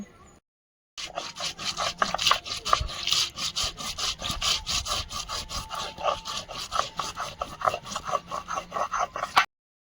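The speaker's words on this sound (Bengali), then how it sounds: "চার পাঁচ কর রসুন আর গোলমরিচ একসঙ্গে বেটে নেব" Garlic cloves and black peppercorns ground together on a grinding stone, a close, steady rhythmic scraping of stone on stone with repeated back-and-forth strokes, no talking.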